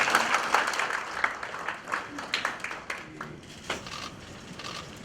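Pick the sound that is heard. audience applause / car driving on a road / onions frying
audience applause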